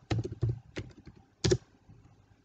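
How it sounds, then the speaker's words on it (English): Keys on a computer keyboard are tapped in a few distinct, close clicks, with a short burst, a pause, and a final sharper keystroke in a quiet room. "And I type Jupyter Notebook."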